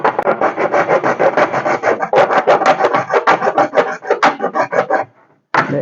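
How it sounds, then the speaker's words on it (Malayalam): A hacksaw blade cuts through a plastic tube in quick, close, loud back-and-forth strokes for about five seconds. A brief pause follows, then one more stroke, with no talk. "ഇത് ആക്സോ ബ്ലേഡ് വെച്ചിട്ടാണ് നമ്മൾ കട്ട് ചെയ്യുന്നത്."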